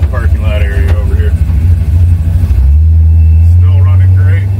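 Truck engine idling and cruising slowly around a parking lot, a loud, close, low rumble that drops and steadies as the throttle is released, with someone talking over it.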